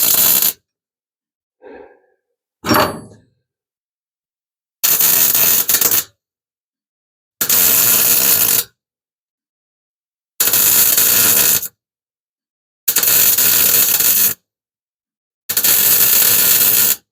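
Welding on the rollbar of a 1974 Plymouth Duster, heard as five loud, steady bursts of crackling arc noise, each lasting roughly a second or more and separated by silent gaps, with a few brief faint noises before them.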